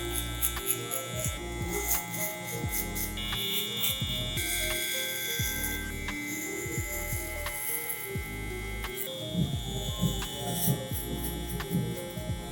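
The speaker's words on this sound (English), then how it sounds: "I'm gonna go ahead and remove all of this bulk real quick. Still using" Electric hair clipper buzzing through bulk hair during a barbershop fade, a close, steady mains-pitched hum with a constant drone throughout and small shifts in tone as the blade moves through the hair.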